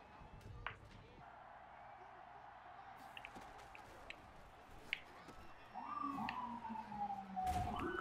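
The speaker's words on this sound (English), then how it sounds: "ambulance just going off" An ambulance siren starts wailing in the last few seconds, a rising and falling tone that swells over a low background of Madden 21 football game sound and scattered soft thumps.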